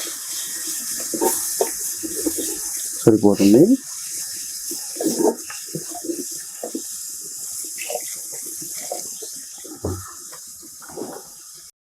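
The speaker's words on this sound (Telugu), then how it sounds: "ఇప్పుడు మనం వాటర్ యాడ్ చేసుకుందాం" Water poured into a pot of village-style Andhra mutton curry, a splashing pour under intermittent nearby talk, with a louder burst of liquid partway through.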